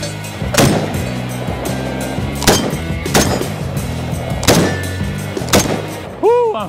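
An IWI Tavor X95 bullpup rifle fires at an outdoor range, about five sharp, loud shots spaced roughly a second apart, each with a short echoing tail.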